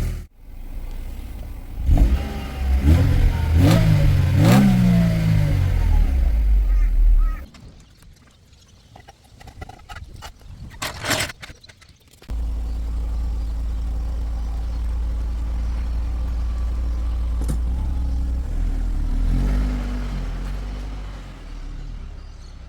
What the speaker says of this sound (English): check to see if we have any leak, fuel leak from the clamps and fuel pump